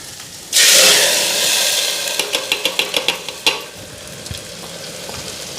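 Dry red chillies and cumin seeds dropped into hot oil for tempering burst into a loud sizzle that slowly settles, followed by a quick run of about a dozen evenly spaced sharp pops and crackles.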